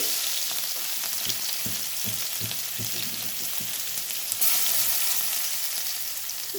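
Steady close hiss and crackle of garlic frying in about three spoons of hot oil in a pan, continuous throughout, with faint soft taps underneath.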